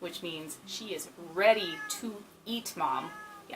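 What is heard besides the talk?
cat meowing and whining at a door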